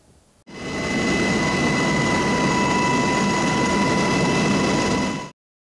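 Helicopter flying overhead during an aerial traffic inspection in Afyonkarahisar, heard as a steady, loud, dense rotor and engine roar that starts abruptly, holds constant for about five seconds and then cuts off.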